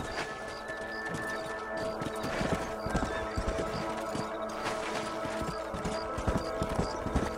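Horse hooves in the Red Dead Redemption western game clip-clop steadily at a trot on a dirt trail, a continuous rhythmic beat up close over outdoor ambience with faint bird calls.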